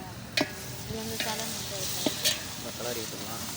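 Mint leaves stirred and frying with chilli powder and green chillies in hot oil, a steady close sizzle with scraping spoon strokes and occasional clinks, under a speaking voice.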